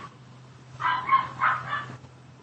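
A dog gives a short run of about four quick barks and yips in the middle of the moment, fairly close, over a low steady hum, with no voices.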